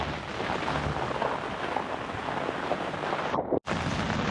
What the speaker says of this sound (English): As you can see, the rain picked up again.